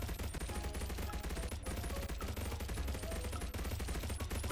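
A minigun firing in a FNAF virtual reality game, a continuous rapid rattle of shots at high volume with no breaks, dense and mechanical throughout.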